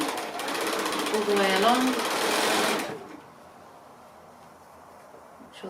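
A sewing machine runs a quarter-inch seam on a roly poly cylinder pin cushion, a loud steady whirring buzz for about three seconds that then stops, with a person talking over it.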